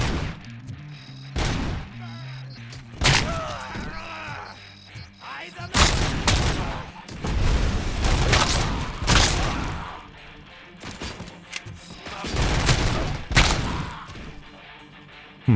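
Gunfire in the video game RoboCop Rogue City, with repeated loud shots, bursts and booms spread across a busy firefight while voices talk over the action.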